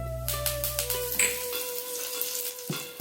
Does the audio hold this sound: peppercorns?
yes